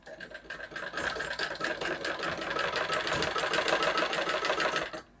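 Sewing machine stitching a blouse, a steady fast whirring run of the needle at close range that holds for about five seconds, then stops abruptly.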